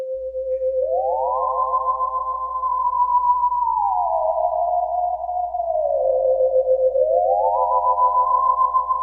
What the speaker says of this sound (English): A theremin is an instrument that you play without even touching it.